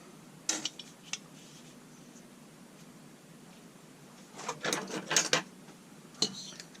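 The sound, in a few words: unscrewing parts of Husqvarna 181 chainsaw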